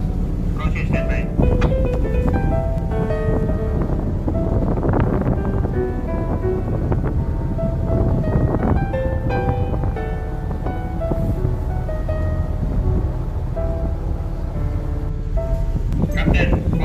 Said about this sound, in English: Engine is running.